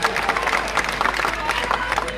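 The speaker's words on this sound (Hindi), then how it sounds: "जोरदार ताली।" A large crowd at an outdoor Holika festival event applauds loudly, with dense, sustained clapping filling the space and a faint voice underneath.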